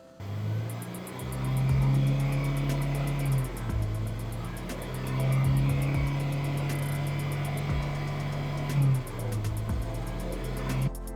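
A Honda Accord fitted with a K-series engine idles with a surging, rising and falling drone, swelling and easing in slow cycles over a steady low rumble, close up with no talking.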